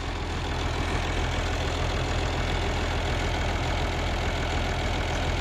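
A 1955 tractor engine idles close by, a loud, steady low-pitched rumble with an even mechanical chug that holds unchanged throughout, with no voices.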